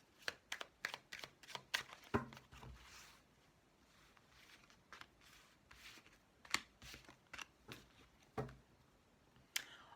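Oracle cards being shuffled and cut by hand, a quiet run of quick riffling slaps and taps in bursts, with sharper single snaps of the deck being cut, close and soft with no talking.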